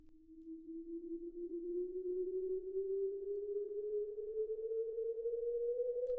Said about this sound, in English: you know it's two tuning forks in a glass of water, and that's far cooler than a sine wave